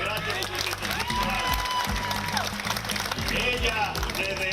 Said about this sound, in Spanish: Un aplauso para doña Altagracia de sus 105